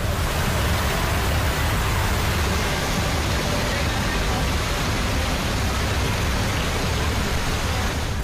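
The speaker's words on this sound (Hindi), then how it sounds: "आगर मालवा में भारी बारिश पूरे शहर पर मुसीबत बन गई है" Heavy rain pours down in Agar Malwa, India, a dense, loud, unbroken hiss and roar that holds steady from start to finish.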